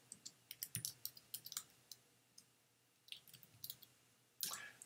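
Computer keyboard keys clack in quick, uneven bursts, close and fairly quiet, with short pauses between runs and a louder rustling burst at the end; no one speaks.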